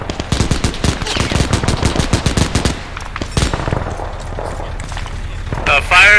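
A military video game, likely Arma, in a Ranger assault on Maisy Battery, with rapid bursts of automatic gunfire in a fast rhythmic stream, then scattered louder shots and distant fire, with voices talking over the action.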